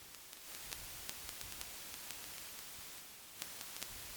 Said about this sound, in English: I think the other one should come down a bit, this white noisy one